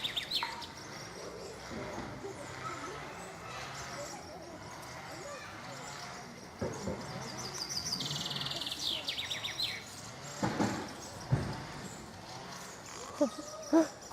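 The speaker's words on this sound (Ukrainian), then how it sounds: "Різні різні пташки у нас в парку." Assorted birds chirp and call in a park in Nadvirna. Short, scattered tweets rise over a steady outdoor background while people talk nearby.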